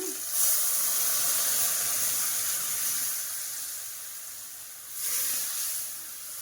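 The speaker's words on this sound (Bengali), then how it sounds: "ডালটা ঢেলে দিই, তাহলে হয়ে যাবে।" Lentils (dal) poured into a hot pan set off a loud, steady hiss that fades slightly over several seconds, then swells again near the end, with no talking.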